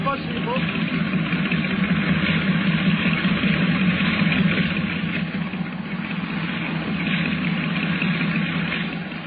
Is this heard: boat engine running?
yes